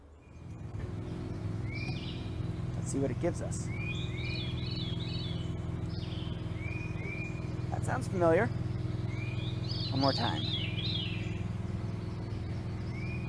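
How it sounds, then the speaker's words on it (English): A recording of short, repeated whistled bird phrases plays back in bursts over steady background hum, with a person talking quietly throughout. "I want to try playing a video, see if we can see and hear this bird singing."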